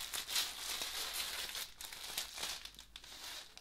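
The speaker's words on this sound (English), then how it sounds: "I will fold the bonnet like this and pop it into the organza bag" A fabric bonnet is folded and pushed into a thin organza bag, giving quiet, irregular crinkling and rustling bursts close by for a few seconds, with no talk.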